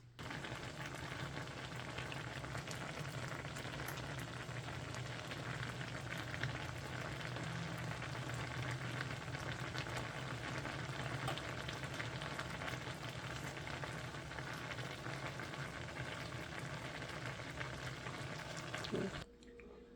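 Steady bubbling simmer in a pot of cranberries for juice, with soft crackling pops of bursting berries scattered throughout, continuous and close, ending abruptly near the end.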